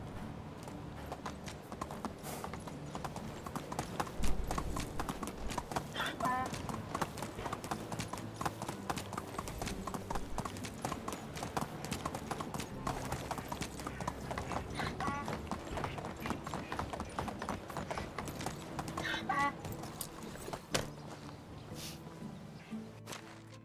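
Horse hooves clip-clop in a steady rhythmic walk while riding in the medieval game Medieval Dynasty, close and continuous, with occasional faint whinny-like tones over the footfalls.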